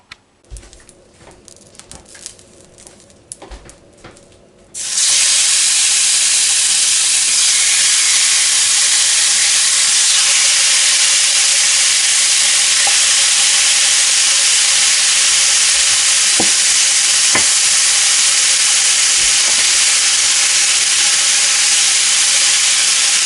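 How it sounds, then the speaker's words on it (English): Chicken fillets hit a hot pan and start browning for chicken cacciatore: after a few seconds of quiet clinks, a loud, close, continuous sizzle and hiss sets in and holds steady, with occasional pops. "I'm just going to brown these up a little bit"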